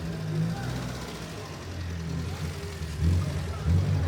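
Lecoq car being driven slowly across a park at a show with its exhaust valve closed, a low engine rumble that swells toward the end while people talk over it.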